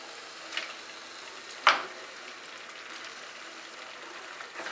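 Small pieces of washed, drained mutton frying in spiced oil in a pan give off a faint, steady sizzling hiss, broken once by a single sharp clank of utensil against the pan.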